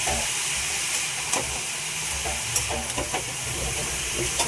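A papaya dish with salt, turmeric and peanuts sizzles in a pan, a bright steady hiss broken by a few soft scraping stirs, close and fairly loud.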